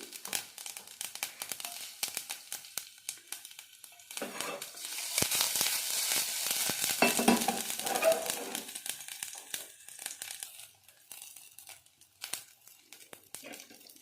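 Cumin, garlic, curry leaves and dried chillies tempering in a little oil, a sudden crackling sizzle that swells in the middle and fades into sparse pops, close and moderately loud.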